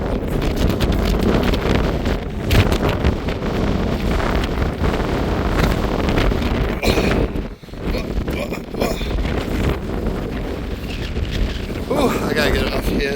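Strong sustained wind, around 40 mph, roars across the exposed summit of Mount Madison on the Appalachian Trail, buffeting the microphone with loud, gusty rumble that dips briefly midway before surging back, close and relentless, with no speech.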